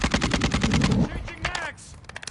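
Rapid automatic gunfire from Call of Duty: Modern Warfare 2 multiplayer, loud and close for about a second, then fading into scattered shots and game effects with a brief callout voice underneath.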